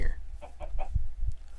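Chicken from the video game Minecraft clucking in short bursts, a few close, moderately loud clucks spaced across the moment with low background rumble.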